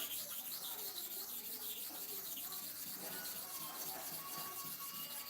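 A clipper blade rubbed back and forth on a sharpening stone coated with paste, giving a steady, close, continuous gritty rasp with no clear pauses between strokes.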